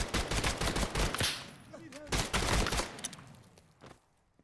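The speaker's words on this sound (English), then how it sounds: "Now we have to use our gun." A quick run of gunshots from a firearm in a VR tactical shooter video game, sharp close cracks in a tight cluster that thin out and fade, with a voice briefly speaking among them.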